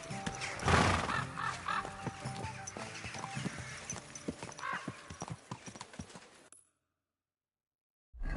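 Horse hooves clip-clopping in the video game Kingdom Come: Deliverance II, a close, rhythmic trot with a neigh near the start, stopping abruptly into about two seconds of silence before sound briefly returns.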